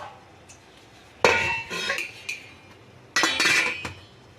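A metal lid clatters down over stacked plates in a steamer while chana dal dhokla is being made, with two separate bursts of close, bright clinking and rattling about two seconds apart.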